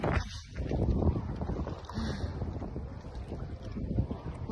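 Wind gusting at a pine beach in Croatia, buffeting the microphone with low, uneven rumbles across the whole stretch, with faint activity in the background.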